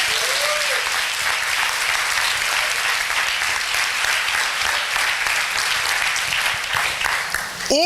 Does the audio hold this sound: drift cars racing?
no